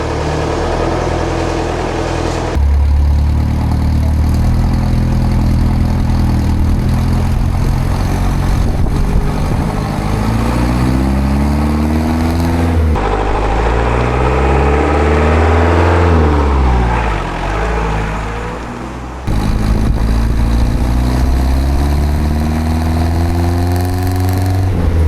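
A car's engine revs steadily on a platform, being tested for an air suspension setup; loud, close mechanical drone with rising and falling pitch sweeps across repeated throttle blips, briefly dipping between bursts.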